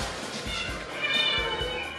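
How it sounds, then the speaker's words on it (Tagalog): Rescued cats meow in a crowded home shelter of more than ninety strays, several close overlapping cries over a busy background, with talk mixed in. "Rescued cats ang mga ito."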